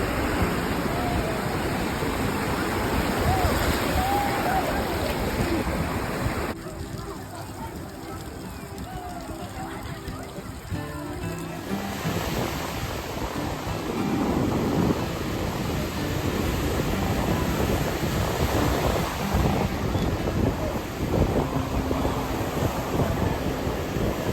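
Ocean surf on a clear day at a Florida beach, a loud continuous wash of breaking waves mixed with heavy wind buffeting the microphone, the roar easing briefly midway before swelling back.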